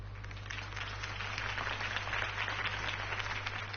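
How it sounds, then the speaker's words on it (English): Crowd applause in the Telltale Batman video game after a mayoral campaign speech: steady, dense clapping that holds at an even level throughout, with no talk over it. "If only Mr. Wayne, my campaign's largest backer, could have heard that applause"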